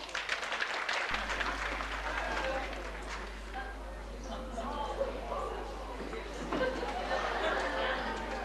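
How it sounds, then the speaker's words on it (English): Children's circus crowd at Hayling Island applauding performer Vicky, with claps and chatter blending into a busy, sustained wash over a steady low hum, while voices carry through the noise. "I think Vicky deserves your applause."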